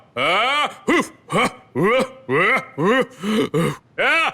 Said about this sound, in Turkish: Sinirli olduğumu belli etmek için de sert sert nefes alacağım